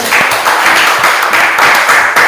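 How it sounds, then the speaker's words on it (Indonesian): A classroom of Indonesian high school students applauds a performance, steady dense clapping at close range, loud and continuous throughout. "Tepuk tangan sekali lagi."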